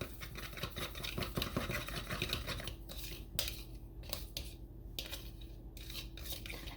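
A spoon clinks and scrapes steadily inside a container while mixing breakfast ingredients with chia seeds, with quick continuous stirring that turns into a few separate taps near the end.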